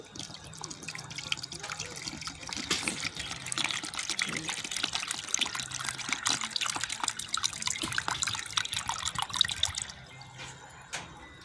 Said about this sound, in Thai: เทลงไปเลย น้ำซาวข้าวหนึ่งขันนะคะ